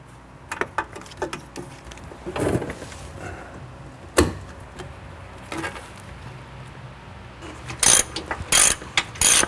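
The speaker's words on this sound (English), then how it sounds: "Go ahead and remove the 8 nuts holding the bumper on." Ratchet working loose the nuts that hold a Jeep front bumper: scattered bursts of sharp mechanical clicking with gaps, some metallic clunks, and a louder, faster run of ratcheting near the end, with no voices.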